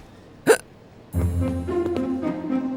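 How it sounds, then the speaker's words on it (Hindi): A single sharp hiccup bursts out near the start, followed by a low sustained drone of background music with no talking. "सुबह से हिचकियां लिए चले जा रहे हो।"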